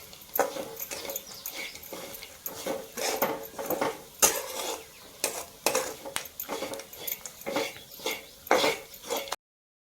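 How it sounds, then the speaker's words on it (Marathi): A spoon scrapes and knocks against a pan while onion and peanut chutney is mixed, a steady run of close, uneven clinks and scrapes with no talk. "चांगलं आता मिक्स करून घेऊ आपण याचं।"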